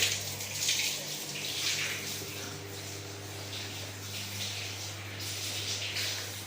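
Tap water runs steadily as hands are washed in a bathroom sink during a cleaning job, a soft continuous splash over a low electrical hum, with brief faint voices.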